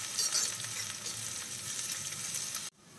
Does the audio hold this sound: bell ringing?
no